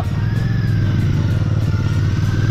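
Royal Enfield motorcycle cruising on a mountain road, a loud, steady engine thump with a low throbbing rumble and wind rush, no voices.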